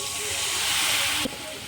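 Water poured onto hot fried spice masala erupts in a loud, steady steam hiss that cuts off sharply near the end, leaving a quieter sizzle.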